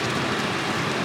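Heavy rain pouring down in Great Smoky Mountains National Park along the Roaring Fork Nature Trail, a dense steady hiss of close downpour.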